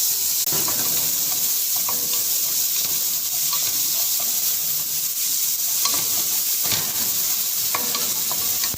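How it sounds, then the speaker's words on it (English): Chopped onion frying in a pan with ginger and garlic, stirred steadily by a spatula, giving a constant loud sizzle with scraping stir strokes throughout and no talking. "Now after adding onion, we'll continuously stir it till the onion gets brown."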